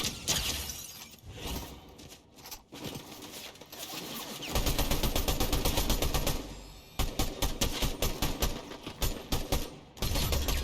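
A gun with heavy kick fires in the Palia video game. Sustained rapid shots and breaking, shattering crashes come in dense, loud stretches with brief pauses between them, and no voices.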